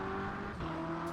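BMW M8 race car in rFactor 2 accelerating hard in second gear out of a corner at Spa, a steady, loud engine drone with sustained tonal whine running throughout, close and continuous.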